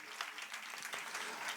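Devotees clap their hands at a religious katha gathering, a steady dense patter of many palms filling the whole moment without a break, moderately loud and close.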